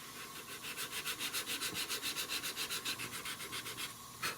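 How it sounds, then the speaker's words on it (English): Ebony is sanded across the grain in a steady run of about twenty rhythmic back-and-forth rubbing strokes, close and moderately loud, with no voices. "My piece of ebony, I'm going to sand that cross grain as well to kind of scuff it up a little bit"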